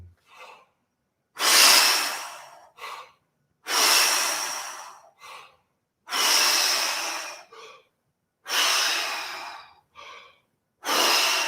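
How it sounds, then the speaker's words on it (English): Slow, forceful exhales through the mouth during a seated vocal warm-up exercise, five long breaths spaced evenly about two seconds apart, each followed by a short, quieter inhale, close and clear with no talking. "Exhale it out, and breathing."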